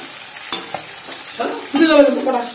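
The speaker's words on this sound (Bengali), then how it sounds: "আর এদিকে মাছ ভাজা হচ্ছে" Fish frying in a pan in a home kitchen, with a soft sizzle and stirring scrapes that build to a louder, crackling burst near the end, heard up close with no talk.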